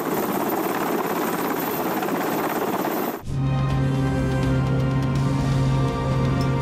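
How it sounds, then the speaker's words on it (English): A hovering helicopter's steady rotor thrum fills the air, loud and continuous, shifting partway through to a smoother droning hum with a strong low whine. "choppers can't land and must refuel. Hovering for that long can be very exhausting."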